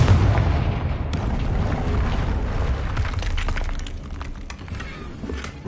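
The Confringo blasting spell in Hogwarts Legacy goes off as a loud, heavy explosion with a deep rolling rumble and crackling debris that fades slowly over several seconds.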